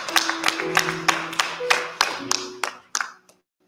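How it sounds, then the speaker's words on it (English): Congregation clapping hands in praise at a Martin Luther King Jr. Day church celebration, loud irregular claps close by with a sustained tone beneath, tapering off to silence at the end. "give God a rousing hand clap of praise"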